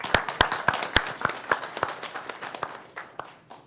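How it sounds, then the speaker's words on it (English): Sparse applause from a small audience at a technical conference talk, made of distinct individual claps that thin out and fade over a few seconds. "He deserves a round of applause for that"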